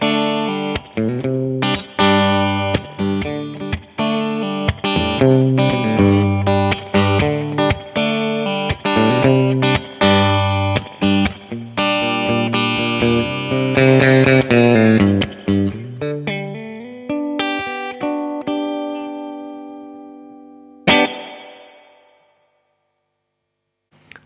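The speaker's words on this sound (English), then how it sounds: "what we all know and love, the spring reverb" An electric guitar plays through an affordable spring reverb pedal, with dense strummed chords and picked notes ringing with a washy, springy tail. The final chord fades out alone.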